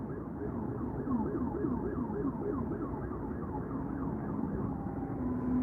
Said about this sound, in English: I'm still hearing sirens. I see them over there too. I wonder what the heck is going on. These sound more like ambulances.